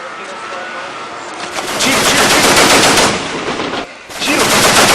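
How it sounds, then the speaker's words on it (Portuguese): Rapid bursts of gunfire crackle loudly through a favela at night, dense volleys of shots with a brief lull before another burst. "Tiro!"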